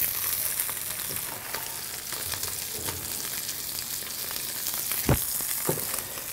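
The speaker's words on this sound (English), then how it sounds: "that just cooking that way in the pan, and it's just going to get nice and golden and crisp on the outside" Hapuka fillet frying in a hot pan, turning golden and crisp, with a steady broadband sizzle throughout, punctuated by occasional sharper pops and crackles, one louder spit near the end.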